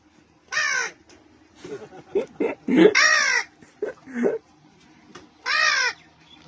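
A person imitates a crow with three loud, harsh caws spaced a few seconds apart, with quieter muttered talk in between.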